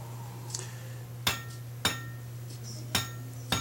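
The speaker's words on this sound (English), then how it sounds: "Just the end of the bar, we're going to upset the end. Do a little jumping on the anvil." The end of a hot bar is hammered on an anvil to upset it during forging for a fireplace tool handle, five sharp ringing strikes at roughly half-second intervals over a steady low forge hum.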